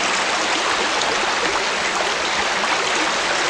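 The Dean Burn stream flows across open moorland, with a loud, continuous broadband rush of water close by and no voices.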